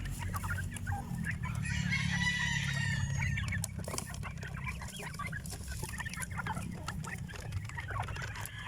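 Free-range heritage and crossbred chickens cluck and call together outdoors, a busy overlapping chorus of fowl sounds with some louder clucks, continuous throughout and with no talking.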